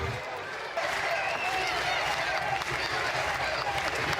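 A capacity crowd of about five thousand at a college baseball regional game between Miami and Southern Miss roars and cheers after a home run, a loud, dense, sustained wash of applause and shouting that swells slightly and holds steady.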